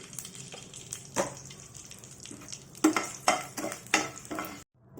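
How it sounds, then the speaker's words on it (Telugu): Urad dal frying in a pan with a single drop of oil, a steady sizzle broken by several sharper scraping stirs of a spoon against the pan before everything drops to silence. "ఒక చుక్క నూనె వేసి వేయిస్తున్నాను నేను"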